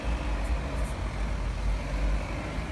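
Motor traffic rumbling past on a street, steady low engine noise from heavy vehicles and cars nearby with a brief hiss, no voices.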